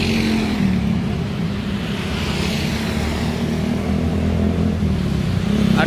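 A Sahabat Ababil bus bound for Merak via Cipali rumbles past at night on the Palimanan stretch, a loud steady engine drone with deep low hum that holds throughout.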